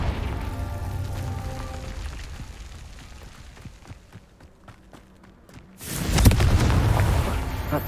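A Confringo fire spell explosion in Hogwarts Legacy erupts suddenly after quieter footsteps and scattered combat sounds, a loud, close, roaring burst that sustains for about two seconds.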